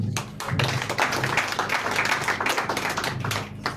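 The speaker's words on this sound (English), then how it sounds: "please give a round of applause" At the Inclusive Africa Conference, the audience claps for a partner institution as its name is called: a burst of many hands clapping that rises quickly, holds steady for about three seconds and then tapers off, with no speech.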